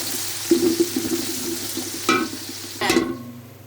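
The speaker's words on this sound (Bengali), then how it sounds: "বেরেস্তা করে রাখবো, সেখানে পেঁয়াজ দিয়ে দিলাম।" Sliced onions frying in hot oil for birista, the crispy fried onion topping for Eid polao, with a steady low sizzle broken by a few louder bursts of stirring and spatter.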